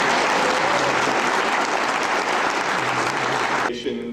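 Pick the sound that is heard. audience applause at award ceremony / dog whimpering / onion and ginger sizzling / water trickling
audience applause at award ceremony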